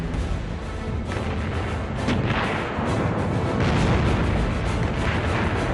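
Bismarck's 381 mm main battery firing on a British warship at almost 16 km in German wartime footage: a dense, continuous roar of heavy booms and rumbling blasts, loud and sustained throughout with no voices.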